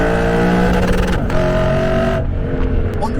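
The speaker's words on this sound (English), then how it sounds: "Under this hood, you get a Japanese-made 5-liter V8 that just sounds so exotic." A 2017 Lexus RCF's Japanese-made 5-liter V8 revs hard and close, the loud exhaust note climbing and dropping before easing off into a lower burble.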